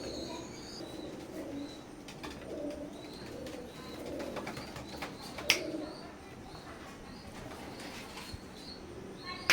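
Imported Teddy pigeons from an Omani bloodline coo steadily at moderate distance, with occasional chirps, wing flutters and sharp clicks in a quiet loft.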